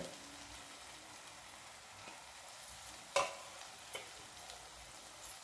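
Aloo curry of mashed potatoes, peas and coriander is stirred in a pan, giving faint scraping and light sizzling with a sharper clink midway, and no voices.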